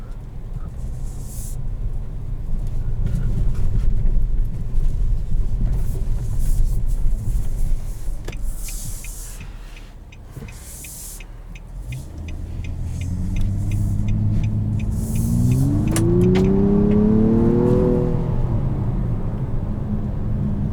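A 2020 Nissan Maxima SR with a 3.5-litre V6 accelerates with a deep engine rumble that swells, eases off briefly, then climbs in a rising, revving pitch through the gears using paddle shifters.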